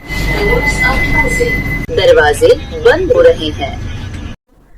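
A steady low rumble inside a moving Vande Bharat train carriage, with a person talking close up over it before it cuts off.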